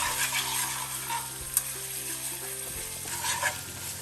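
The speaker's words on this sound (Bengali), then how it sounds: "দিয়ে আমি এখন নাড়াচাড়া দিব, 1 মিনিটের মতো নাড়াচাড়া দিই" Spices sizzle and fry in a hot pan while being stirred for malai kofta curry, a steady close crackle with scraping strokes of the spoon throughout, no talking.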